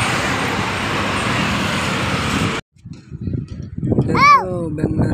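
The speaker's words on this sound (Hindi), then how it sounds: "देखो भाई कितना गाड़ी आ रहा है" Bangalore road traffic roars steadily and close for a few seconds, then drops out briefly before vehicle noise returns with a sharp, wavering horn blast.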